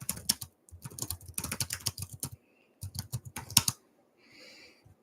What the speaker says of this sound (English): It's because I'm typing this link on old people social media